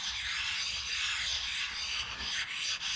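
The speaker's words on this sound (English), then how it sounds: "when you're properly lapping steel, it will generally turn gray" Steel being lapped by hand with abrasive compound in a toolroom, a continuous gritty rubbing hiss with steady back-and-forth strokes, close and fairly loud, no voices.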